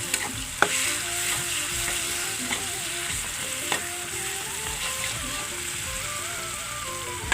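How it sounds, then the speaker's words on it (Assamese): Hog plum, potato, ginger and garlic fry in a pan, giving a continuous crackling sizzle with occasional clinks and scrapes of stirring, fairly close and moderately loud, no talk. "এইখিনি দিয়াৰ লগে লগে মই অমৰা আৰু আলুখিনি মই দি দিম। এইখিনি দিয়াৰ পিছত মই ধুনীয়াকৈ মই ভাজি ল'ম।"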